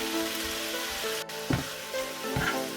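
Tuna added to a hot pan with butter dough and Himalayan salt, giving a steady low frying sizzle with a couple of louder crackling bursts as it lands and is stirred.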